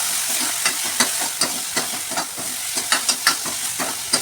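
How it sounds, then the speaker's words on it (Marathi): Onion frying with a paste of fresh coconut, green chili, ginger and garlic, a bright sizzle punctuated by a regular series of scraping strokes from the stirring spoon, close and fairly loud. "आता आपला कांदा भाजत आलेला आहे। तर ह्याच्यामध्ये मी ओलं खोबरं, हिरवी मिरची, आलं लसूणचं वाटण केलं होतं ते टाकत आहे"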